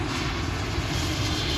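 An airliner flies in to land at Cleveland airport on a foggy evening, its engines a loud, continuous roar close overhead, with no talking.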